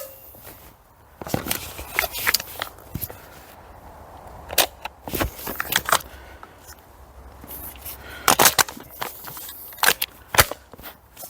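Sharp cracks of a .22 LR Scar-style rifle firing Blazer rimfire ammunition, a dozen or so irregularly spaced shots with some closely grouped pairs, crisp and fairly close against quiet outdoor background.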